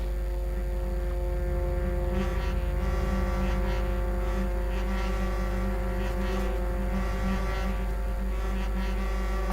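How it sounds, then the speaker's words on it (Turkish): Loud, steady horns blare continuously over a deep engine drone, several overlapping tones held on together as military logistics convoy vehicles sound off in unison. "Kornaları asılalım beyler."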